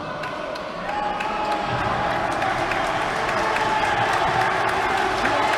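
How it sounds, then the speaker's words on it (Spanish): A stadium crowd at Riazor roars and applauds at the close of a boxing event, a dense, swelling wall of cheering and clapping that grows louder and holds steady. "Los aplausos, Riazor. ¡Que ruge!"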